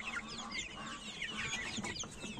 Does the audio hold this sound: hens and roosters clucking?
yes